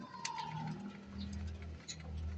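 Soft, low cooing from an old racing pigeon repeats close by, with a faint higher bird chirp and light background rustling.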